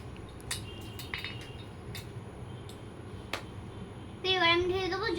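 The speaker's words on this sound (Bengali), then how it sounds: "এবার আমি বসিয়ে দেবো হাঁড়ি।" A toy cooking pot is set down and handled in a miniature play kitchen, giving a series of small, sharp plastic clicks and taps. A voice starts speaking near the end.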